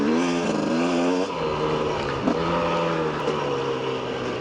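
A KTM 250 EXC enduro motorcycle on dirt trails, its engine droning loud and close with rising and falling revs as the rider shifts and accelerates, no voices over it.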